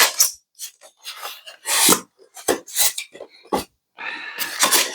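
Crinkling, rustling and scraping of cardboard and plastic packaging being handled and opened while unboxing a Freewing MiG-29 twin 80mm EDF RC jet model, in short irregular close-up bursts.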